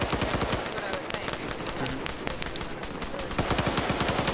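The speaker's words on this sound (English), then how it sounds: "Already starting up with one of the machine guns." Rapid machine gun fire in a large-scale PvP military game on a winter mountain, continuous dense bursts of shots with overlapping gunfire, loud and sustained, with voices faintly mixed underneath.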